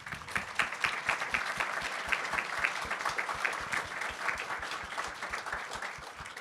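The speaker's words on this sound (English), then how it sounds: "If they could stand up and we give them a round of applause too." A town hall audience in Ann Arbor, Michigan, gives a round of applause, dense steady clapping from many hands that carries on throughout, fairly loud and close.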